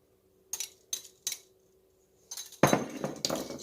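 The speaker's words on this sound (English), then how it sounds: "Now that I've got that, I'm going to just start adding my beans." Beans for a three bean salad go into a bowl: three light spoon clinks against the dish, then a dense, wet rush of beans tumbling in, close and fairly quiet.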